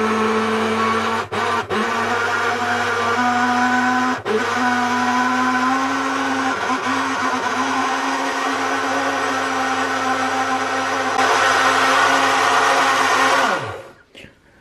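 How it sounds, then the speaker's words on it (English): A blender whirs loudly at a steady high pitch while blending a banana milkshake, with a few brief dips as the load shifts, a louder surge near the end, then the motor winds down and stops. "Now that you've got the lid on and this is on your blender, blend it."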